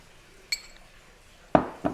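A spoon clinks against a glass while a health drink is stirred, one bright ring followed a second later by two sharper, louder knocks close by, in a quiet room.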